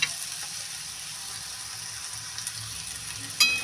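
Onions fry softly in a pan, giving a faint, steady sizzle with light crackle, and a brief sharper click near the end.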